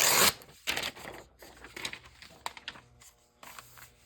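Scissors cutting pictures out of a glossy magazine for a collage, with a loud paper rustle at the start, then a series of close snips and crinkles at an uneven pace.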